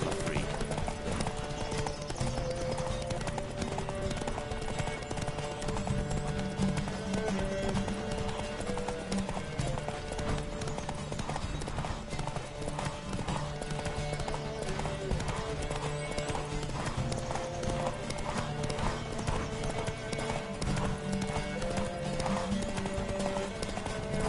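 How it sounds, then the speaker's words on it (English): A horse gallops in a Witcher video game race, its hoofbeats a rapid, steady clip-clop that runs throughout under continuous background voices and game sound. "Don't scare the horse."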